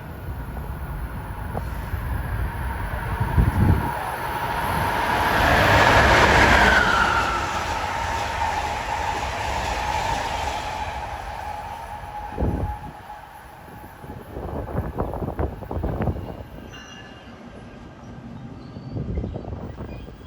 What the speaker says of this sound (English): And coming fast at 227 is train 84, en route from Norfolk, Virginia to New York.